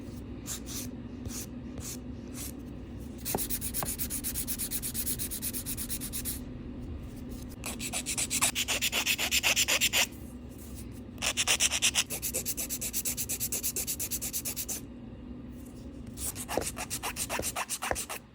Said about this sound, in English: So now we're all done and we're about to get into filing.